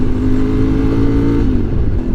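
A motorcycle engine drones steadily and loudly while riding on a particularly bumpy country road through the Causses du Quercy in the Lot valley, with a slight drop in pitch toward the end.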